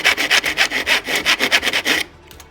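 A hand saw cuts wood in a miter box with about a dozen quick, rhythmic rasping strokes, close and loud, before stopping abruptly.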